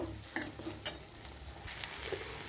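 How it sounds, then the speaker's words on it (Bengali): Banana flower cooking with spices in a pan gives off a soft, continuous sizzle with occasional scraping and stirring clicks, close up and quiet, and nobody speaks. "এইভাবে আমি কিছুক্ষণ ঢাকা দিয়ে নেড়ে কষিয়ে নেব।"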